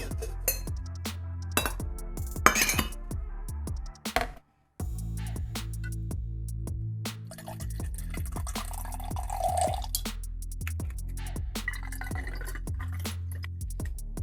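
A batched martini cocktail being poured into a container: clinking glass, drips and a run of liquid filling, with a brief silent gap midway, then more pouring and small clinks close to the microphone.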